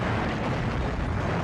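A CGI car explosion in an older movie: a dense, loud, sustained roaring blast that rumbles steadily throughout, with no voices over it.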